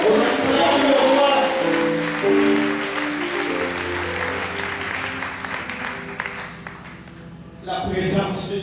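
A church congregation applauds, acclaiming the king, in a dense wash of clapping blended with sustained musical or sung tones. The sound thins near the end, then rises again briefly.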